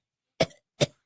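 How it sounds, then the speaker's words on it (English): Two sharp coughs from a lingering cold, about half a second apart, close and fairly loud with silence around them. "I still have a cough from that damn cold."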